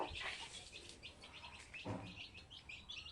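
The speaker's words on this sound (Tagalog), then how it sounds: "May sisiw na naman tayo tita." Nine newly hatched chicken chicks peeping in a yard, rapid high thin chirps repeating continuously at moderate distance, with a brief low rustle partway through.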